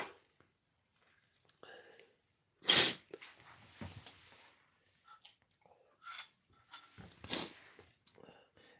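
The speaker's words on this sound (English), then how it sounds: "Come on, sneeze." A single sharp, close sneeze bursts out of near silence, surrounded by soft breaths, small mouth noises and a few later breathy bursts.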